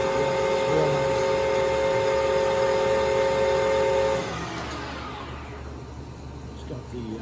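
A Harrison M-400 16x60 lathe runs loud and steady with a strong tonal whine, then its drive tone drops away after about four seconds, leaving a softer mechanical hum.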